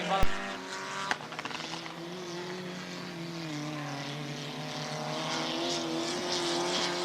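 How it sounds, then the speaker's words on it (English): Hot-rod race cars, among them a Hillman Imp, roar around a track in Dungarvan, Co Kilkenny, their engines droning steadily with rising and falling pitch, with a sharp bang near the start and a race commentator talking over the noise. "Racing back up towards us then, that's the Hillman Imp of Kenny Tracy out clear."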